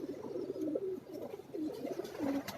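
Ferozpuri pigeons coo over and over on a rooftop loft, with several overlapping low calls close by and steady background noise.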